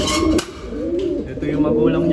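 Pigeons coo softly and repeatedly inside a loft and aviary, close by, with a voice talking over them.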